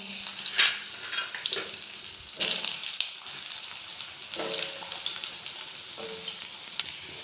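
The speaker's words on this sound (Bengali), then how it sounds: "এবারে ভেজে নেব কেটে রাখা আলুগুলোও লাল লাল করে ভেজে নেব" Cut potatoes fry in hot oil with a steady close sizzle, punctuated by several louder bursts of spitting as pieces are added and moved.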